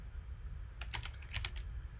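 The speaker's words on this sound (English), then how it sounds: "I'm typing the word circle." A short burst of keyboard typing, a handful of quick clicky keystrokes in two little clusters over a quiet room hum.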